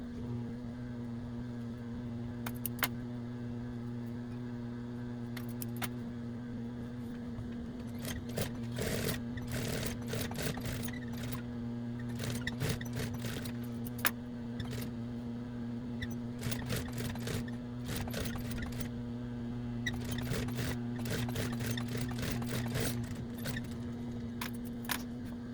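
A sewing machine stitches dinosaur spikes into a hooded towel, its motor humming steadily under repeated sharp clicks and bursts of needle chatter, close and continuous.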